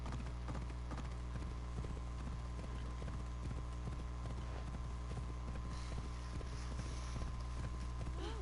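A horse's hooves in Assassin's Creed Odyssey beat out a regular trotting rhythm, evenly spaced and moderately loud, over a steady low ambient hum.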